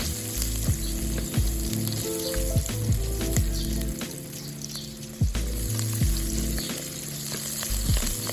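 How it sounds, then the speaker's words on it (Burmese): Meat fries in a pan over a continuous, close, loud sizzle and crackle, with occasional scraping stirs and small pops. The sound stays steady throughout. "ပြီးရင်တော့အနံ့လေးဝေးလာတဲ့အထိကြော်ပေးပါမယ်"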